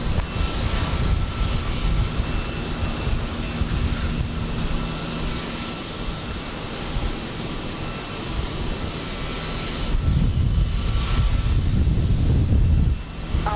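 At Houston Intercontinental airport, an airliner roars down the runway on takeoff as a sustained broad engine rumble, steady and somewhat distant, swelling louder near the end, with wind buffeting the microphone.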